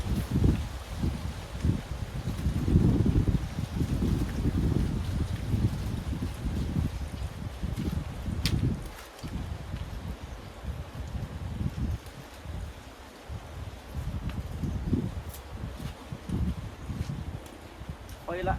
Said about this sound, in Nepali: हावा चलिरहेको छ एकदम